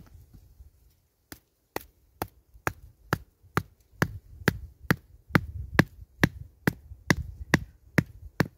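A wooden forked stake for a snare trap driven into the ground with repeated hammer blows, sharp evenly spaced knocks that quicken and grow louder, close by, over a low rumbling background, no voices.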